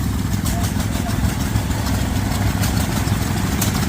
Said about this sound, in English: Got some old McCormick stationary engines.